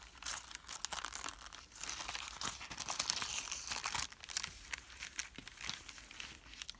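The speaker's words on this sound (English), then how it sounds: "My tissue collage is now dry and I can peel it off the plastic backing." Dried tissue paper collage peeled away from a plastic backing sheet: a steady, close run of crinkling, crackling and tearing rustles with brief pauses, no talking.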